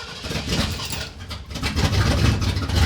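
Van engine running steadily after a start without the choke: a close, loud mid-pitched idle with a rough, pulsing rumble that rises slightly toward the end.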